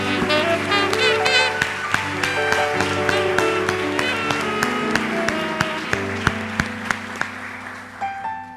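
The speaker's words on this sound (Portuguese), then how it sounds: "Mais um aplauso ao Messias." Church congregation applause during a Portuguese-language worship service, with scattered claps rising over sustained music that fills the background throughout.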